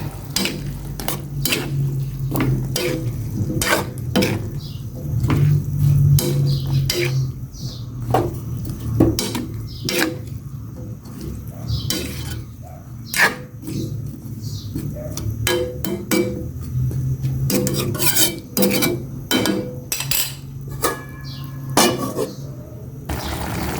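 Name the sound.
squash added to pot and stirred while cooking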